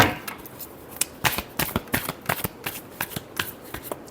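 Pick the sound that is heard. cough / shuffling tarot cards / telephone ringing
shuffling tarot cards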